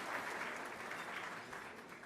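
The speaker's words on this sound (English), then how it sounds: "Let's give a round of applause to the women who helped make this all happen." Brief, steady wash of audience applause at a conference hall gathering, soft and distant, with no speech on top.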